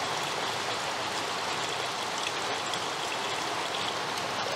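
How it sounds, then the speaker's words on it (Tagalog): Heavy rain falling steadily, a dense continuous hiss of drops on surfaces with no break, moderately loud and alone without voices. "Sinasarapan po talaga yung ulan."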